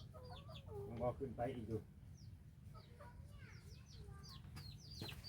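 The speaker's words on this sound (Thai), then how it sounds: "ไก่ตัวนี้ก็ดื้อเลยได้นี่เนาะ" Chickens clucking around a rural Thai farmhouse, a run of close, fairly loud clucks and squawks under and between a person's speech, then softer scattered calls.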